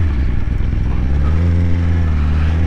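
Close, loud motorcycle engine dropping through the gears on a downshift, with a steady throaty drone that shifts pitch as the revs settle.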